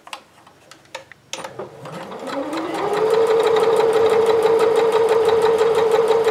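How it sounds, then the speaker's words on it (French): Sewing machine stitching a trouser pocket seam: a few soft clicks and taps, then the motor winds up into a loud, steady, rapidly ticking whir that runs to the end. "on va aller coudre sur cette longueur là"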